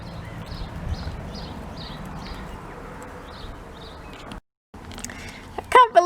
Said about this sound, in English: And who doesn't love the sound of a guinea pig eating?